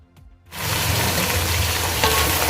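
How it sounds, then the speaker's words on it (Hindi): Mutton yakhni meat hits a hot pot of lightly browned pulao base and breaks into a loud, continuous sizzle after a brief quiet moment, with no talking. "अब हम इसमें डाल देंगे"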